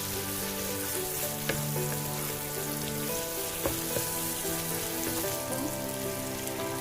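Firm white garlic-stalk pieces stir-frying for Sichuan twice-cooked pork give a steady, dense sizzle that runs the whole time, with a few soft clicks of stirring and no voices.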